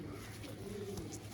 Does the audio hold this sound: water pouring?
no